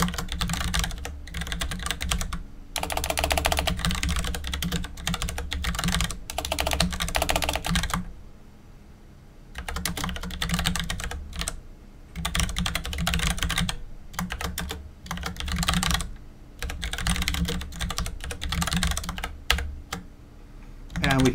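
Rapid, steady typing on a computer keyboard while entering Emacs Lisp code, keystrokes close and loud in dense bursts with a short pause near the middle.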